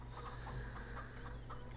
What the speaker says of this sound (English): But we're up to 12 chickens, so that's a good thing.